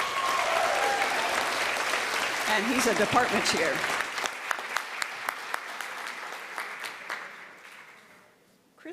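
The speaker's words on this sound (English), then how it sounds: "Let's also give a round of applause" Convocation crowd at OCCC applauding a college service honoree, thick clapping that thins into a few scattered, distinct claps before fading out, with someone speaking over the start.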